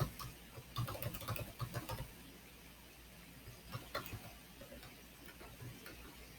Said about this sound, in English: I'm trying to look it up and my keyboard's not responding.